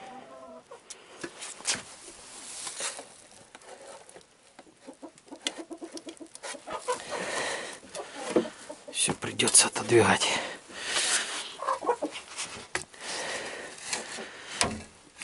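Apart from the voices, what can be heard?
chickens clucking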